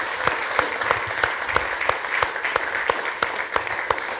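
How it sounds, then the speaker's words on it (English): Applause from an audience at a brass band concert in a Salvation Army hall, steady overlapping clapping with a few sharper claps standing out, fairly close and sustained. "I think he deserves another round of applause since I've chosen you."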